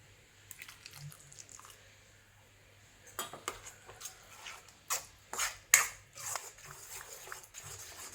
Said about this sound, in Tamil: அதனால நம்ம இதை கிளறி கொடுத்துட்டே இருக்கணும்.